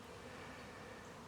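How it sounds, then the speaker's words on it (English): Bees buzz near a hive as they fly in, a steady faint hum with no break. "Uh-oh, I see bees going in."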